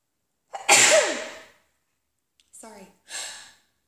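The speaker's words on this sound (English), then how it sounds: "I'm going to sneeze" A person sneezes loudly once, a sharp burst that tails off, followed after a pause by a couple of short breathy sighs or sniffs.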